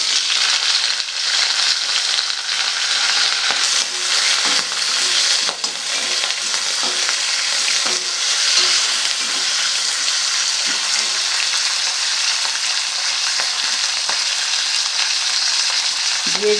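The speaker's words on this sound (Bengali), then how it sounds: "নেড়ে নিয়ে এর মধ্যে ধুয়ে রাখা শিমগুলো আমি এবার দিয়ে দেব।" Washed flat beans frying in a pan with black cumin, a dense, continuous loud sizzle with scraping and stirring sounds throughout.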